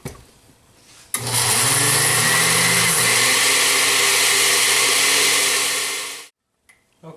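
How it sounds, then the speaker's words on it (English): Blender pureeing raspberries with powdered sugar and lemon juice: a sudden loud, steady high motor whir that runs about five seconds with a slight pitch dip partway, then cuts off, followed by a short faint blip. "We got out our blender, we added our raspberries, our powdered sugar, and our lemon juice."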